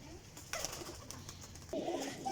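Flying pigeons at a loft in Sarai Alamgir, Jhelum, give soft low coos in short bursts, fairly faint, with a little background noise.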